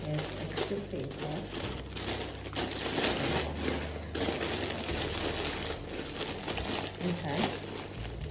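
Extra paper is crumpled and crinkled into a birthday gift box, a steady close-up rustle with louder crunching bursts. A voice is heard faintly at times underneath.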